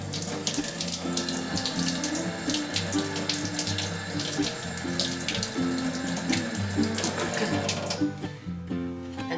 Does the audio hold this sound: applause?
no